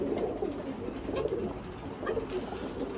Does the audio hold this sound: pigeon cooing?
yes